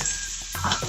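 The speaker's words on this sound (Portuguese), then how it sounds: "E agora eu deixo a cebola refogar bem, ficar bem douradinha aqui" Onion sautéing with paprika and ginger in a pot gives a steady, close sizzle and crackle that runs the whole second, with a brief stir or scrape of a utensil partway through.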